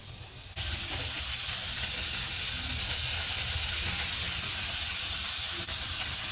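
Pansit guisado cooking in a covered pan toward a boil gives a steady, close hiss and sizzle that starts abruptly and then holds even and loud throughout.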